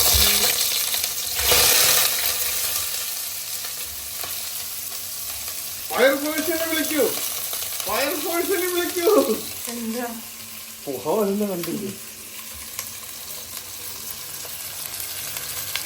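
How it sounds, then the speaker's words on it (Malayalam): Onions sautéing in hot oil in a pan for biryani make a continuous hiss, with a clatter early on and several stretches of nearby talk over the frying. "ശംചേട്ടൻ നല്ല ഉള്ളി വഴറ്റാൻ വെക്കാൻ പോവാണ്."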